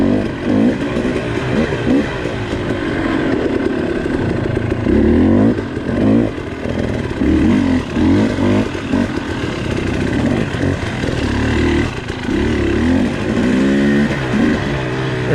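Dirt motorcycle ridden along a single-track trail at Red River, its engine loud and close throughout, revving and surging with throttle changes and rattling over rough ground.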